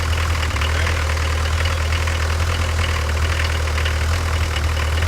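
A diesel car engine runs steadily, loud and close, with a deep low rumble and a rough knocking texture, heard alone without talk.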